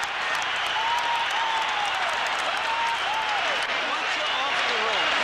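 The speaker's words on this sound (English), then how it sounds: "The end of round seven, the crowd on its feet." A 1987 Hagler versus Leonard title fight crowd roars at the end of round seven, a dense, loud, sustained wall of cheering and applause that stays steady throughout.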